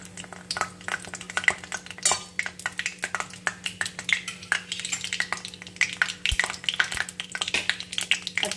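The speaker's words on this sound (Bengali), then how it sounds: "এর ভেতরে দেখো আমি দিয়ে দিচ্ছি কালো জিরে, এবং দিয়ে দেবো একটা শুকনো লঙ্কা" Nigella seeds and a dried red chilli crackle in mustard oil in a pan, giving dense, rapid spitting pops and crisp ticks, with occasional clinks of a utensil against the pan.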